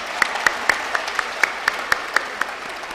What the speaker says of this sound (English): They deserve a huge round of applause again